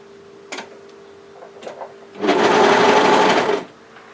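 A sewing machine stitches the side seam of a dress in one steady run of about a second and a half, following a few faint clicks and handling noises; no one speaks.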